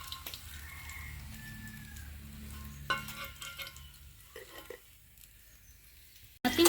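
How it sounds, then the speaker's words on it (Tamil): Sardines coated in masala fry in a pan, a soft steady sizzle with a few light clinks and stirring scrapes, ending in a sudden louder burst. "மத்தி மீன் நல்லா வெந்து வந்துருச்சு, நம்ம அப்படியே எடுத்துருவோம்"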